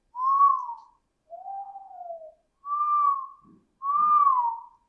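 A person whistles a chirpy robot-like melody imitating R2-D2, with four separate warbling phrases. Each phrase swoops and wavers, and the whistling is close, clear and alone with no talk.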